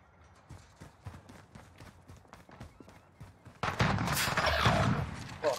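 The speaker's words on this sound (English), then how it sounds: "Oh, it's a shotgun." Shotgun blasts in a Call of Duty Modern Warfare 2v2 tournament match, a few sharp shots early over faint game noise, then a dense loud burst of gunfire and action sounds near the end.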